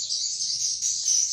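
Dense high-pitched chirping of swiftlet chicks inside a swiftlet house, a continuous steady chorus heard up close with no talk.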